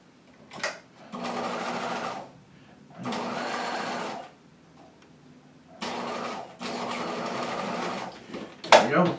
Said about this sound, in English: Take a diagonal stitch across that corner